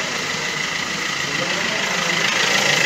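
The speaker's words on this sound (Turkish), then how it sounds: "Birinci vitese takıp yürütmeni istiyorum." Opel car engine idling steadily with a dense, even mechanical hum and vibration, heard close and loud without a break before pulling away in first gear.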